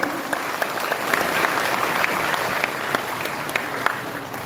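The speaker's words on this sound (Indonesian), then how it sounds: "Tepuk tangan untuk OPSIS." An audience applauds at a ceremonial gathering, with dense, continuous clapping from a crowd that stays even and fairly loud throughout.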